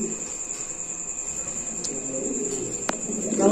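Lahori pigeons coo softly at a pigeon farm, low murmuring calls over a steady high insect-like hum, with a sharp click near the end.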